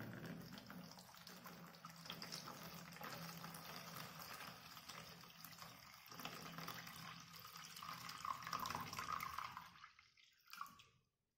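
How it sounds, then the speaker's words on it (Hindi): Water is poured steadily from a vessel into a container set up for an experiment with submerged electrical wires, a continuous splashing trickle that ends abruptly with a final clunk. "अब इस वाटर को मैं इसमें डाल रहा हूँ"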